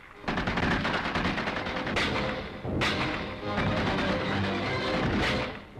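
Sustained rapid gunfire and heavy bursts crack out loud and dense during a World War Two commando training assault in Cornwall, with a few sharper blasts standing out in the barrage.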